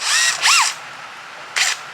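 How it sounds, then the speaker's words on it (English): A power drill bores through a camphor wood surface lure. It gives two short high whines close up, then a pause, then one more brief burst, with no talking. "just an easy way so you don't pop your drill bit out the top all the time and make a mess of your lures"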